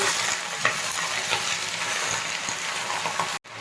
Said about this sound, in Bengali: এরপর আমি পুঁই শাকটা দিয়ে দেবো এর মধ্যে এরপর নাড়িয়ে দেব